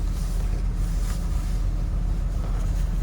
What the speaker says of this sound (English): pulling the Scout out of its hidey hole with my Jeep because the tractor doesn't work